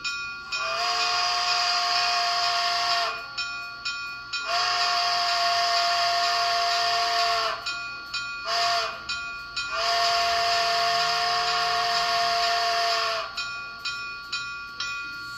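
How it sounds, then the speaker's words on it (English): A Bachmann Spectrum USRA 2-10-2 model steam locomotive with WOWSound blows its grade crossing whistle long, long, short, long, each blast loud and shrill over a steady background hiss. "F4 is actually a grade crossing sequence, so we're gonna turn on the bell and push F4"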